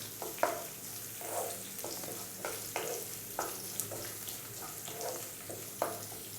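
Sliced ginger is sautéed in a pan, giving a soft, steady sizzle broken by repeated stirring scrapes and light clinks of a spatula at an even pace, with no voices.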